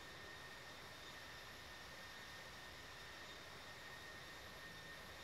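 An Emirates jet airliner rolls for takeoff from runway 30 left at Dubai in a flight simulator, giving a steady, faint, broadband jet roar with a thin high whine, unchanging throughout.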